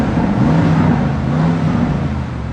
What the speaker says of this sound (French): Je vais mettre des petits coups de gaz quand même.